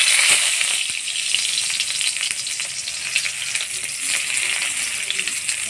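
Prawn parcels wrapped in ash gourd leaves frying in hot oil in a kadai, a dense, even sizzle heard up close and continuing throughout, with no voices.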